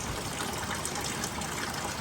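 Floodwater from a lightning-struck sailboat pours steadily into buckets, a continuous close gushing splash with no pauses.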